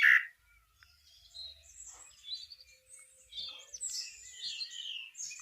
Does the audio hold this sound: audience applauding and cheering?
no